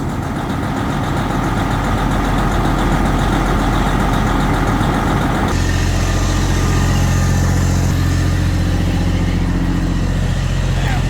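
A Detroit diesel truck engine idles steadily after a cold start, a loud, continuous low rumble that changes character midway and settles into a smoother idle.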